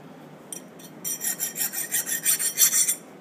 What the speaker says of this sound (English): Did a file skate test over it using a file here.